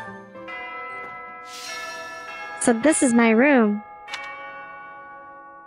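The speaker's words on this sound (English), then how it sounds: "The bells are like the Fire Emblem theme." Church bells chime in the video game Fire Emblem: Three Houses, a bright tuned ringing with layered tones under a brief line of speech.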